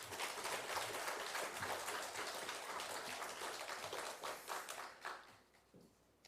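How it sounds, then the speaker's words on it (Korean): A church congregation at a Korean devotional service applauds to welcome a pastor, a full, dense clapping that holds steady for several seconds, then thins and fades out near the end. "박수로 맞이하겠습니다"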